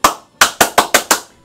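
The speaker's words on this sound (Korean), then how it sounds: "자, 박수를 보내고 싶습니다." A streamer claps his hands six times in quick succession, sharp close slaps with a short pause after the first and then an even rhythm, loud and alone with no talk.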